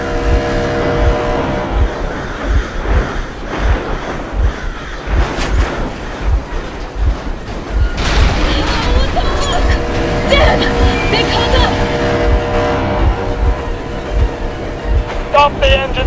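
Vehicle engine running in the video game Metro Exodus, a steady low rumble and rattle throughout, loud and continuous, with clanks and bursts of noise layered over it.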